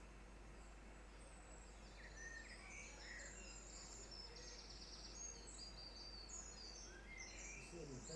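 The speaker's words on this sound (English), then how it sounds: "You see the birds sang loud in there." Birds sing outdoors in the Lake District countryside, scattered high chirps and trills rising from a steady background hiss, moderately distant and fairly faint, with insect-like buzzing mixed in and no talk.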